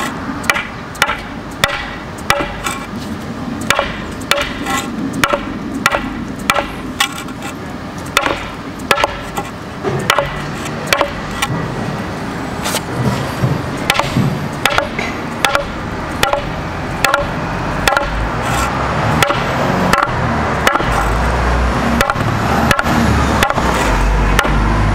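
Sharp hammer blows strike repeatedly at a steady pace against driveway paving blocks, loud and close, continuing for a long stretch with a low rumble building late.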